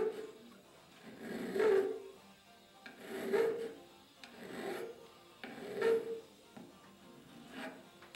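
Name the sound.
hand file shaping mahogany wood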